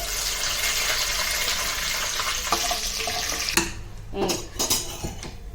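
Spices and curry leaves fry in oil in a kadai while utensils clink against the pan, a steady hiss with sharper metallic scrapes and clatter near the end, no talk.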